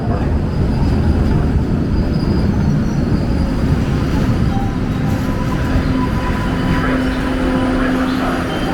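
Loud, steady rumble of a Boston subway light rail train running through a tunnel, with a constant roar and faint high squeals from the wheels throughout.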